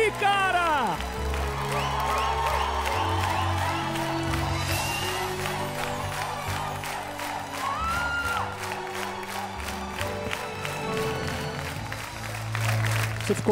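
A studio audience on a presenter's TV show applauds and cheers, a dense wash of clapping and whoops rising midway over loud music and the presenter's voice.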